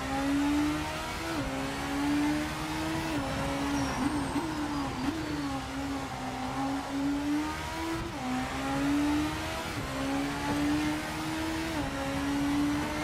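A race car engine in the Project Motor Racing sim game drones steadily and loud, its pitch climbing and then dropping abruptly through a series of quick downshifts, with no voices over it.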